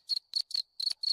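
Cricket chirps played from a Discord soundboard, five clean, evenly spaced trilled pulses, crisp and isolated with no voices.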